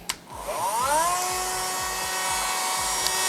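A Worcraft CEMG-S20Li cordless engraver spins up to a high-pitched whine and grinds metal with a burr, a steady close buzzing drone with a slight rising pitch at the start.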